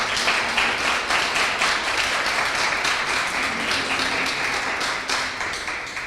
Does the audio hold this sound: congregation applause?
yes